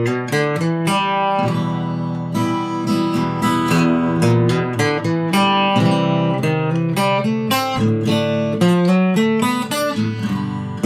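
Guitar strumming basic chords with bluesy blue-note fill licks worked between them, steady and continuous, played alone with no voices.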